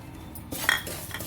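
Dry fruits tossed into ghee in a pan with semolina for mango halwa, a brief clink of a metal spoon against the pan followed by soft stirring scrapes.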